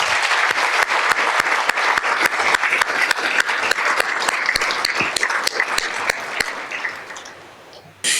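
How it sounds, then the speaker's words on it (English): An audience at a nursing college scholarship and alumni awards ceremony gives a sustained round of applause, dense clapping that holds steady and then thins out near the end, loud and close with no speech over it. "Let's give them one more big round of applause."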